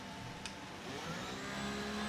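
F1 car engines in the F1 23 racing game rev at the race start, a loud, steady high-pitched engine whine that climbs slightly in pitch, heard on its own.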